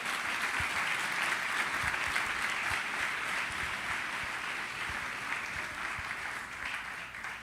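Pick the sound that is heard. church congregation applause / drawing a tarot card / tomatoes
church congregation applause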